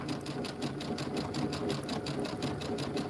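A sewing machine stitches a fabric-wrapped rope bowl at a steady, moderate pace, its even mechanical chugging and needle clatter running close and continuous throughout.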